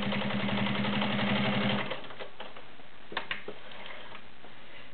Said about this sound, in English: Nice consistent stitch on 18 layers of fabric.